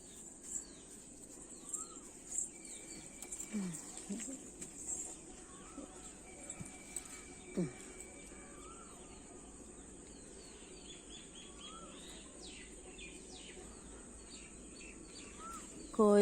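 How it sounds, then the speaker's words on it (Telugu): An Asian koel calls repeatedly in the distance, its faint notes rising at intervals over a steady bed of crickets and insect buzz, with other small birds chirping now and then. "ఎంత బాగా కూస్తోంది కోయిల."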